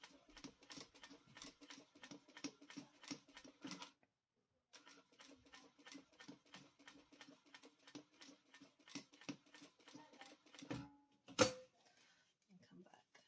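A sewing machine stitches quilted fabric drinks coasters, running in quick, even rhythmic bursts of needle clatter, pausing briefly, then resuming; fairly quiet and close, with a louder thump near the end.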